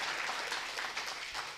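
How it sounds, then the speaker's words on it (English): An audience at a ladies' training camp in Dubai gives a round of applause, steady clapping from a crowd at moderate distance that fades slightly at the end, with no talking. "So she really needs a big round of applause"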